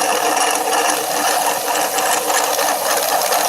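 A homemade spin/counter-spin magnetic device spinning fast, about two rotations per second: a steady, loud, buzzing mechanical whir with a fast rattling texture, close and continuous, with no speech.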